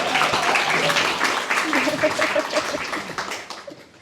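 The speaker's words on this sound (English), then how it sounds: "Round of applause, come on." Audience applause at the book launch of the novel "Scattered", a dense wash of clapping mixed with voices that holds steady and then tapers off toward the end.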